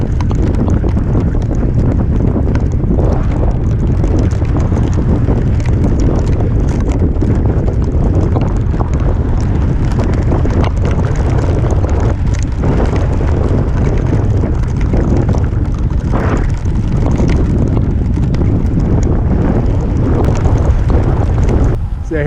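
Strong headwind buffets the microphone while cycling from Banff toward Lake Louise and Moraine Lake, a loud, continuous roaring rumble with gusty fluctuations lasting throughout.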